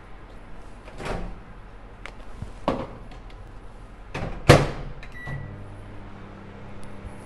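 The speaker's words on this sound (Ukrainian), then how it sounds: "шоколад можемо трохи розтопити в мікрохвильовці, щоб він трохи підтанув." A microwave door clunks open and shut a few times, then the oven starts humming steadily while melting chocolate.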